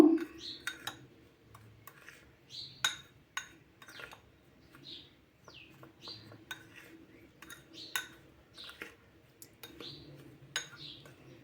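A spoon mixing homemade ENO ingredients, salt among them, in a kitchen, clinking and scraping against a dish in irregular taps over the whole stretch, moderately close, with a low background hum.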